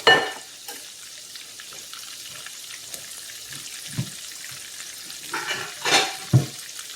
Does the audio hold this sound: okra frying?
yes